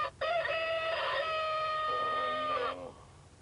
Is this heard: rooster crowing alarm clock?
yes